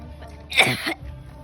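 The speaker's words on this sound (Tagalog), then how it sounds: "ubo na ako ng ubo para akong nasusuka" A single harsh cough or throat-clearing burst, close and brief, rising out of quiet room noise and fading within half a second.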